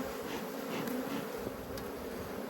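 Honey bees buzzing steadily in a hive opened for inspection, a dense close drone that holds without pause and carries no voices.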